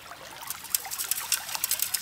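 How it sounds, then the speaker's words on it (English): Water and dirt wash through a gold sluice box outdoors in Michigan, a soft, close trickling and dribbling with small splashes over about two seconds. "just wanted to show you me feeding a few scoops of dirt material through the sluice box"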